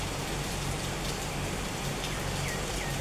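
Rain falls steadily in Thailand, a dense, even hiss of drops pattering on surfaces, with nothing else standing out.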